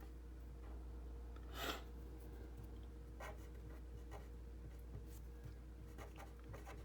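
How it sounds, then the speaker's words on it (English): Pen or pencil writing on paper, a list being jotted down, with soft intermittent scratchy strokes and one louder scrape over a steady low room hum; no one speaks. "I can go ahead and write that"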